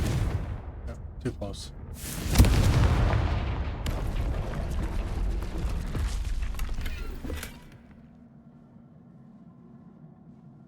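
A Confringo blast spell erupts in Hogwarts Legacy with a loud, booming burst that rumbles for several seconds, then fades into quieter ambience; a voice speaks briefly over the noise.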